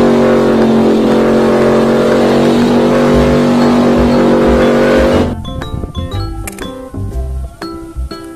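A toy off-road car's motor whirs loudly and steadily for about five seconds, then cuts off, leaving lighter clicks and clatter of toy vehicles close by.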